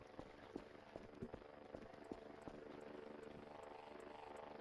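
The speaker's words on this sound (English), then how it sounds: "I hear the drone." Steady whirring drone from the video game Voices of the Void, a continuous mechanical buzz at moderate level joined by scattered clicks and taps in the first half.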